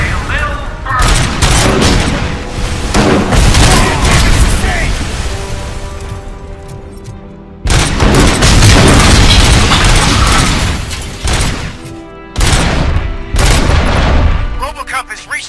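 A Cobra cannon fires in the RoboCop Rogue City video game, sending heavy booming blasts and rolling explosions in long loud bursts, layered with gunfire and dense game sound.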